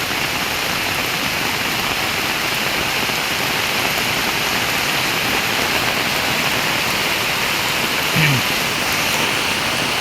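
Heavy rain pours down amid rising floodwater, a loud, dense, unbroken rushing hiss that holds steady throughout, with a brief faint voice in the middle.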